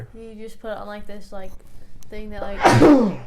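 A single sharp sneeze bursts out near the end, loud and close, right after a person speaks casually.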